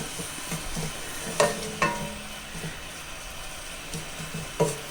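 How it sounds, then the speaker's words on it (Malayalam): Spice powders stir-fried in a pan for egg biryani masala: a soft continuous sizzle broken by a few distinct scraping strokes of a spoon, close by with no talking. "പൊടികളുടെയൊക്കെ പച്ചമണമൊക്കെ ഒന്ന് മാറുന്ന വരെ നമുക്കൊന്ന് വഴറ്റിയെടുക്കാം"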